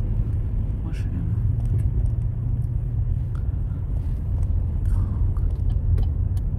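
Interior of an electric car taxi riding through Tashkent, a steady low road rumble and tyre noise with faint rattles and ticks throughout, no engine drone.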